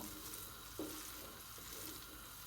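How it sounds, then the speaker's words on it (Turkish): Butter melting in a hot pan for Sivas-style flour halva, giving a steady, soft frying sizzle with a faint stir or clink near the start, and no talking. "Yağımız böyle eriyor"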